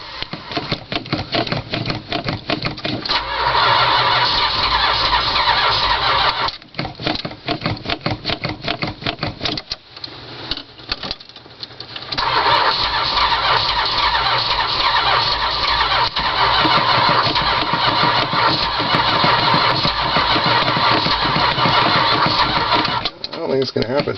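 A 1978 Dodge Ramcharger's starter cranks on and on during a cold start that never catches, loud and steady with a few brief pauses between long bursts of whirring.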